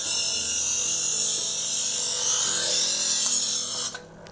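A Chef'sChoice 317 electric knife sharpener grinds a dull homemade knife in its first slot, a steady high rasping whir over a motor hum that cuts off abruptly near the end, with no speech.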